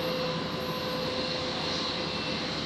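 Singapore Airlines Airbus A350 jet on its takeoff roll at Brisbane Airport at night, a loud continuous engine roar with a steady whine, no talking.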